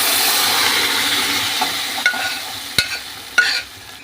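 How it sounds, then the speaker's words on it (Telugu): Onions fry in a pan of dal with curry leaves, a steady bright sizzle that gradually softens, punctuated by a few sharp scrapes and clinks of a stirring spoon. "ఇవి కూడా బాగా గోల్డ్ కలర్ వచ్చేదాకా ఫ్రై చేసుకోవాలి ఆనియన్స్"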